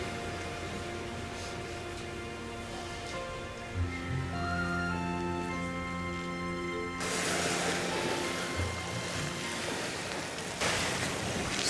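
Surf washing against a seashore, a steady rushing wash running throughout beneath sustained background music, swelling louder with bright hissing bursts in the latter half.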